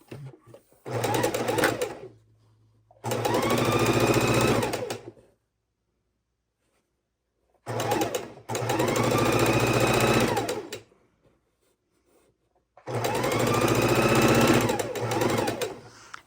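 A sewing machine runs in several long bursts, stitching along the bottom border of a scrap quilt with the heavy bulk of the quilt on top. There are pauses in between, and no one speaks over it.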